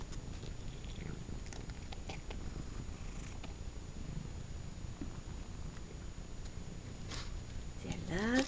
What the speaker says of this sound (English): Can we hear you purring?